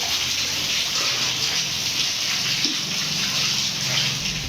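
Rainwater rushes and gushes steadily through flooded low-lying streets with houses during heavy rain, a dense continuous wash of water with no voices.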